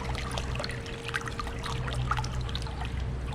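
Creek water in an inner-city stream being stirred up by hand, a close, continuous churning and trickling wash with small splashes throughout.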